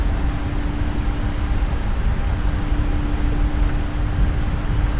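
Boeing 777-300ER jet engines at takeoff thrust in Microsoft Flight Simulator, a steady loud broadband roar with a constant low hum, unbroken for several seconds.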